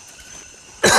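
A single sharp cough bursts out at the very end after near-quiet forest ambience, close and loud, during a jungle wildlife encounter with a fanged animal.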